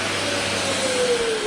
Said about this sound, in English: I'm going to do it mechanically with my sander